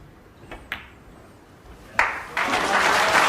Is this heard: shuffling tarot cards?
no